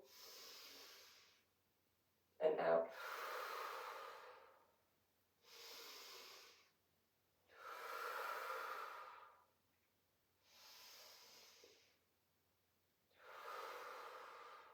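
Deep, slow breaths during a yoga practice, six long inhale and exhale cycles alternating with short pauses, one sharp snort-like intake near the start, close and fairly soft, no talking.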